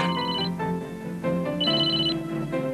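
A Nokia 450 mobile phone rings with a synthesized melodic ringtone, clear and close, repeating in short bursts with no talk over it.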